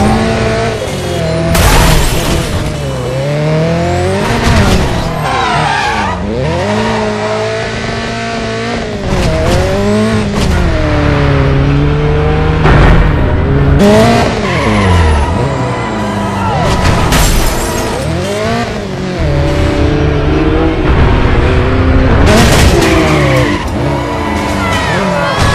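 Loud, continuous engine revving with repeated tire squeals and skids from cars drifting hard in the video game Driver: San Francisco, with occasional thumps.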